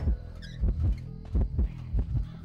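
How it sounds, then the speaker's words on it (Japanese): Heartbeat warning of a nearby hunter in the video game Identity V, a deep, close thumping in paired double beats repeating steadily, with faint game sounds behind. "あ、すごいドキドキしてる"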